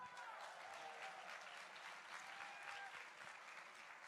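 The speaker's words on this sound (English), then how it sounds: "Let me hear a big round of applause." An audience at a Save Soil event in Jordan claps in steady, continuous applause. The crowd sounds a little distant and keeps an even intensity through the whole stretch, with no voice on top.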